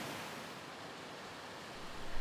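Spring-fed streams pour into a creek beside a road in a valley along Wilkinson Creek, a dense, steady broadband rush of water that stays even and fairly close.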